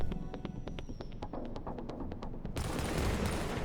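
M1A marksman rifle firing in the shooter game The Division, a rapid run of sharp shots in a fast steady rhythm, about a dozen, then a dense louder burst of gunfire and noise.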